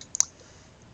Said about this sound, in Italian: basta fare clic su questo link